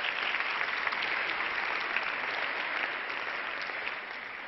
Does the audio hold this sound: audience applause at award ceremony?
yes